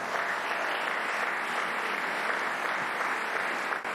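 An audience claps for a man in a dense, steady burst of applause that holds evenly and starts to fade at the end.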